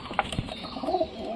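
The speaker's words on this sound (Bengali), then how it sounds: "এই কবুতরটা আছে ডিমে বসে।" A pigeon sitting on its eggs gives a brief, low, throaty coo, close by and fairly soft, with no talk.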